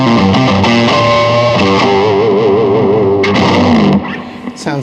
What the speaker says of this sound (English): this is a top secret overdrive, and to me this one gives it a kind of a fuzzy sound